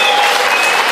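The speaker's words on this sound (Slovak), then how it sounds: "vyslúžil si aj patričný potlesk" Dense audience applause for the Magura folk ensemble from Kežmarok, a continuous loud wash of many hands clapping at once, close and steady with no voices.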